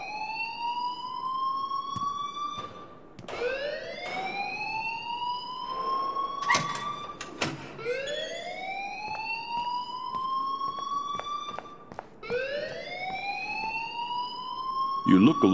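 An alarm in a video game wails in repeated rising sweeps, each climbing and holding before starting again, loud and steady, with brief clicks and bursts between cycles.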